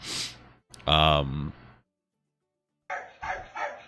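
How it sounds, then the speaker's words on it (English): A dog gives a sharp, loud bark followed by a drawn-out howling bark, then after a pause a couple more barks. "The barking."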